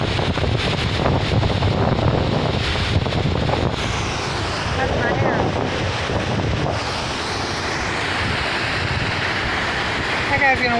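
Strong wind gusts roar steadily across the microphone beside a Michigan river, a loud continuous rush with fluctuating buffeting throughout and no speech in the clip.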